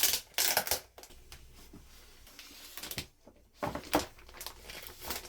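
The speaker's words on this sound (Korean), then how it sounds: "그럼 본품을 비닐에서 꺼내 봅시다" Plastic bag wrapping crinkles and rustles as an XP-Pen drawing tablet is pulled out of it, with irregular close bursts of crackling and short pauses between handling movements.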